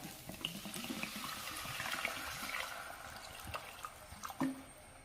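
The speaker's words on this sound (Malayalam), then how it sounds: "അതിലേക്ക് വെള്ളം ഒഴിക്കാം." Water pours into a pan of a mixed onion, carrot and bitter gourd theeyal with turmeric, a soft continuous trickle with a few drips and splashes, faint and close.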